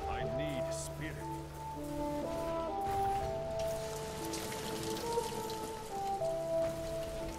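Steady rain patters in the Diablo III: Reaper of Souls video game, an even hiss of drops under sustained musical tones and a voice speaking.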